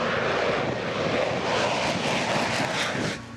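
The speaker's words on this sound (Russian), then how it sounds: "В небе над Жуковским истребитель Су-57." A Su-57 fifth-generation fighter jet flies in the sky over Zhukovsky, its engines producing a loud, sustained broadband roar that holds steady before easing slightly at the end.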